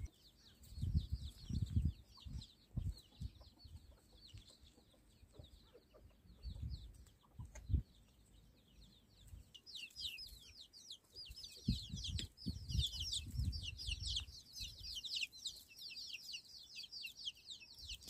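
Young chickens cluck and peep inside a farm coop, a steady chorus of soft, high chirps over lower clucks and occasional rustling, moderately close and without talk.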